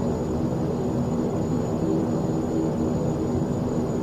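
A Saab 340 turboprop taxiing in the X-Plane 11 flight simulator: steady, loud engine drone with a constant whine and broad rushing noise, unchanging throughout, no voices.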